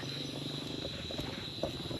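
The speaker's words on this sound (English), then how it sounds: "So many crickets here." Crickets chirp on Camiguin Island in the Philippines, a steady high-pitched insect drone at moderate distance, faint and continuous alongside a low rumbling background.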